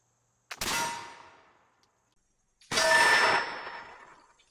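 Two loud blasts from a Veteran Arms Model 1768 Charleville flintlock musket loaded with 2F powder, each a sharp crack followed by a long roaring decay, the second blast longer and fuller than the first, heard close and alone.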